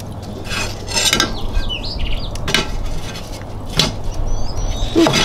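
Metal plates clatter and clink as they are set inside a hickory-fired smoker grill, several sharp scraping knocks spread across the moment over a steady low background hum.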